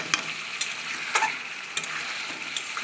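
Chicken pieces and chopped tomato sauté in a pan with a green paste of ginger, garlic, cumin, coriander and green chili, a steady close sizzle broken by a few sharp stirring scrapes and clicks, with no talk.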